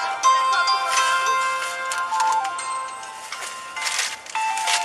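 A cell phone with a pink back rings during a police interaction, a steady electronic ringtone with sustained tonal lines that runs through the whole stretch at moderate loudness.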